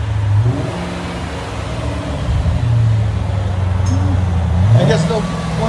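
A 2003 Ford Thunderbird 3.9L V8 with Borla S-Type dual exhaust idles and is revved several times, the engine note climbing and dropping, close by with a person speaking over it.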